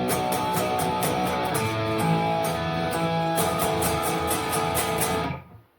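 Electric guitar strummed rapidly in a dense, driving chord pattern, a continuous loud wash of distorted chords with fast pick accents that shifts once midway, then stops abruptly and decays at the end.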